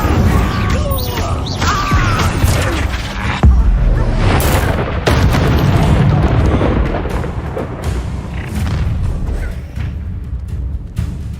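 A fire spell blast bursts out during a dense, loud Hogwarts Legacy battle, its deep booming crash merging with continuous rumbling combat effects and voices.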